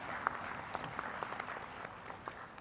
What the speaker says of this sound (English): once again with a big load of applause